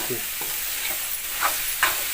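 A jackfruit vegetable mixture is stirred in a pan over a bright sizzling hiss, with several scraping strokes of the spoon standing out near the end.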